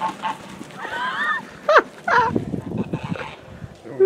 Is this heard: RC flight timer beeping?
no